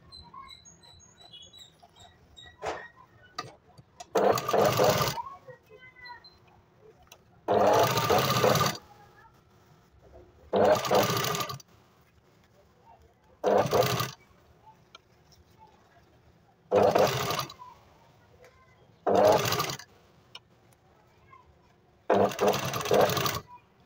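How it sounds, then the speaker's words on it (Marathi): A sewing machine stitches a seam on a two-piece katori blouse, running in short bursts of a few seconds each with quiet pauses between, repeated about eight times at a steady, close level. "इथून अशी शिलाई टाकणार आहे मी 3 सूत मार्जिन ठेवून"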